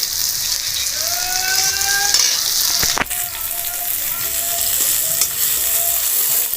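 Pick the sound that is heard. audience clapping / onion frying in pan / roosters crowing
onion frying in pan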